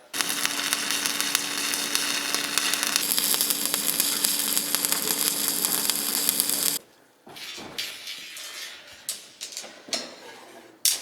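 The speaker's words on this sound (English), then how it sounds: "Let's grab a welder and just weld across that." A welder arcing across the jaw of a cheap rebar cutter, a loud, steady crackling sizzle lasting several seconds close to the microphone, then stopping and giving way to scattered clicks and light knocks.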